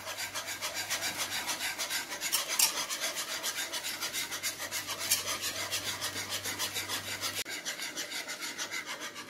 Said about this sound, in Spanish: Y no dejar de batir.